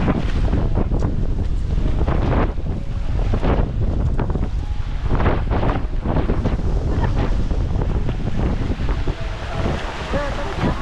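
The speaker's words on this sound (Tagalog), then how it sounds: "Lakas ng hangin, tinatangay." Strong typhoon wind roars and buffets the microphone continuously, mixed with rushing floodwater and surf, loud and close throughout, in Naga, Philippines, during Typhoon Christine.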